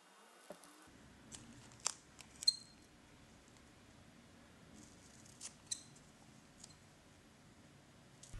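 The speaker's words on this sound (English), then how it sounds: "And eventually I cut out precisely all the white boxes, leaving only the black ones." Scissors snip out the small white boxes of a paper DX code label taped onto a film cassette: a few faint, sharp clicks spaced irregularly over a quiet background, with no voices.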